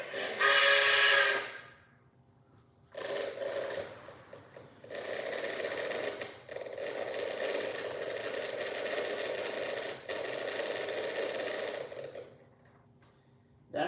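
An O-scale model train stutters on bad power, its steady whirring drone cutting in and out, with a short whistle-like toot at the start and faint talk underneath.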